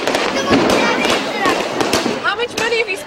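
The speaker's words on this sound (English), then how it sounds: "How much money have you spent on the fireworks?" Diwali fireworks and firecrackers go off in a street in Delhi as a loud, dense, continuous crackle of bangs and fizzing bursts, with whistling rockets near the end and no clear talk.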